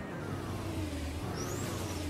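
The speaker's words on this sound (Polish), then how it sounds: "tak chujowe dźwięki silników?" Car engine sound from the car dealership and repair game Auto Sale Life: Fresh Start, a low, steady droning hum with noisy hiss, fairly faint and unchanging, with a thin rising tone near the end.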